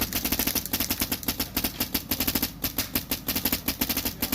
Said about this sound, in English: I'm gonna have the Vossler shoot first, then delay, then you, and then we'll do a comparison together for noise